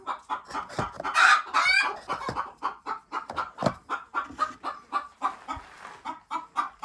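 A hen clucks in a chicken coop, a close, steady run of short rhythmic clucks and squawks with a couple of louder bursts, with no talk over it.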